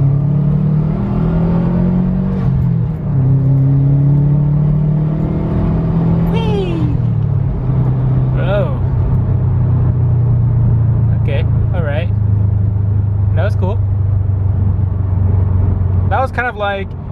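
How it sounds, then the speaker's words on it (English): A 2011 Subaru WRX accelerating on a racetrack, its engine a loud close drone with rising pitch sweeps as it climbs through the gears, heard under steady talking. "I'm on an official racetrack again, so I'm gonna go ahead and do the proper acceleration."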